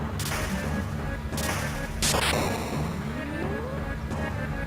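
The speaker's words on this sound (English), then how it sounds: "And the teleporter's exploding." Explosion of a teleporter in the Final Fantasy V video game: several sharp crashing bursts and a rising sweep layered over constant game music, loud and close, with no voices.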